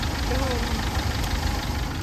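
A scooter engine idles nearby in a steady, dense drone with a faint rattle, holding at an even loudness the whole time.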